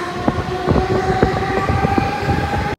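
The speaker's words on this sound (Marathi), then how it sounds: "ट्रेन येते आता" A local train on the Panvel line pulls into Panvel station, its steady rumble and rail clatter sustained and close, with a long tonal hum or whine running through the whole stretch.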